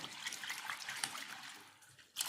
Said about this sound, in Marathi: याच्यामध्ये पाणी टाकून घ्यायचं आहे आपल्याला आणि दोन तीन पाण्याने याला स्वच्छ धुवून घ्यायचं आहे